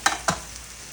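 Food for a carnivore banana pudding cooking in a pan, two sharp stirring scrapes over a steady low sizzle, close and brief.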